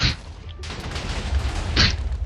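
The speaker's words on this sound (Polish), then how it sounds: "To, to takim oto wybuchem koniec." A video game explosion heard as broad booming bursts, one at the start and another strong blast near the end, with rumbling noise filling the space between.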